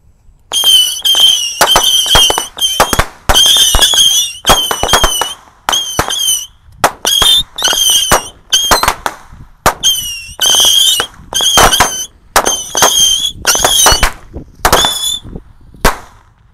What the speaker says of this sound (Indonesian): Selanjutnya kita nyalakan ini mercon tikus box 50 shot ya.